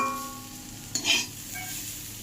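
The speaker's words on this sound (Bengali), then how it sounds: "আমি এখানে উচ্ছে ভেজে নিচ্ছি। আলু, পেঁয়াজ আর কুমড়ো দিয়ে উচ্ছে ভাজা করে নিচ্ছি।" Bitter gourd frying in a pan with potato, onion and pumpkin gives a steady close sizzle, with a brief louder burst of stirring or spatula scraping partway through.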